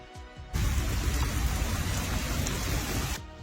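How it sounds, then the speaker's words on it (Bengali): Heavy rain pours down on a street near a salon, a loud steady broadband roar that surges in abruptly and holds for about three seconds before cutting off, with no voices over it. "অঝরে বৃষ্টি নামলো। সে কি বৃষ্টি!"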